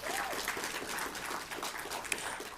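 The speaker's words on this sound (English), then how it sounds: "Can we get one round of applause for our panelists," An audience at an educational forum applauds its panelists: a steady, full round of clapping from a seated crowd that holds evenly throughout.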